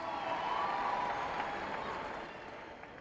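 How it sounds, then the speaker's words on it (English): Applause from an audience at a memorial service held in an indoor sports hall, a steady wash of clapping that fades slightly toward the end, with no talk over it. "Let's give him a big round of applause."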